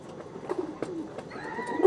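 Pulsar breed pigeons of the Chhapka generation coo in low, throaty bursts, several rolling calls spaced through the moment, close by, with faint chirps and background rustle and no talking.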